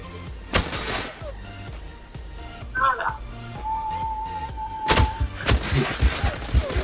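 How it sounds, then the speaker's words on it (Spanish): Gunshots in the shooter game Zula, a few sharp, loud cracks standing out separately among game noise, heard under an almost constant voice talking over them. "Vuelve a apuntar, dos disparos y otro de punta."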